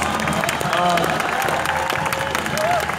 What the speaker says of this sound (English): you guys need to clap for this